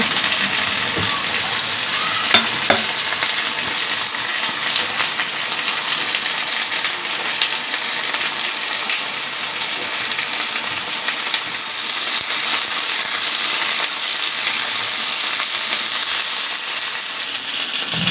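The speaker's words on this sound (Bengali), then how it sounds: "আলুটা একটু ভাজা ভাজা হোক" Potatoes frying in hot oil give a loud, steady, dense sizzle that runs unbroken throughout, close and continuous, with no voices over it.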